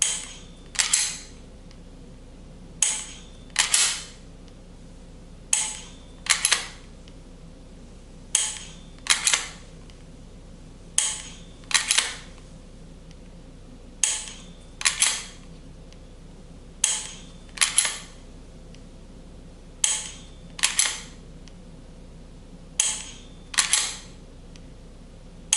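A G-Sight ELMS laser marksman system is used for dry-fire practice, producing sharp, isolated clicks and snaps paired at steady intervals, roughly every second or two, up close against quiet background.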